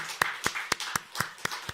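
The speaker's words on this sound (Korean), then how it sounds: "우리 함께해 주실 모든 분들에게 축하의 박수, 환영의 박수 하겠습니다" Sharp hand claps ring out at an even, brisk pace during a Sunday morning church service welcoming new members, seven distinct beats sounding fairly quiet and slightly distant.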